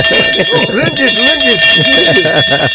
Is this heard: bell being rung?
yes